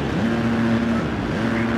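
A dirt bike engine in the Monster Energy Supercross 2 video game, racing the 2019 Houston 250 Main Event, holds a loud steady drone with a buzzing pitch that climbs, holds, dips and climbs again as the throttle opens.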